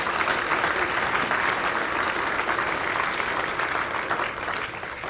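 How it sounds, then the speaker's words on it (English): Sustained applause from a large audience at a city address, steady and dense for about five seconds before easing slightly at the end. "go ahead and give them a round of applause, yes."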